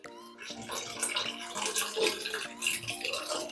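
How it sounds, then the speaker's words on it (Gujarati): Milk poured into carrot halwa in a cooking pan, a continuous close splashing pour that runs for a few seconds without any talking. "એની અંદર આપણે દૂધ ઉમેરીશું"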